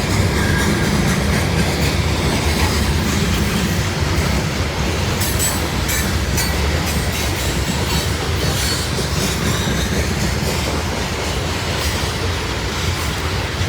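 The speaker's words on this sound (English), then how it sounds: "we got a loaded coal train" A loaded coal train with two distributed power units rumbles past on rails, a loud, continuous roar of wheels and cars with steady clatter and occasional squeal, no voices.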